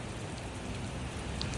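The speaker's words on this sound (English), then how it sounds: "It's raining bad." Heavy rain pours steadily and densely throughout, a loud unbroken hiss of drops striking surfaces outdoors, with no voices.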